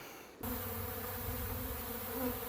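Honey bees buzzing in an opened beehive, a dense, steady close-up drone that starts abruptly after a short quiet moment and holds without talk.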